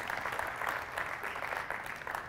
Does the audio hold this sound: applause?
yes